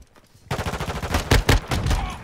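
Pistol shots ring out in the video game Modern Warfare 2: a quick string of sharp cracks after a quiet start, with two louder shots standing out near the middle.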